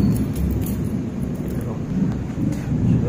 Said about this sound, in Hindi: सुनाई दे रहा होगा बादल जो है गरज रहे हैं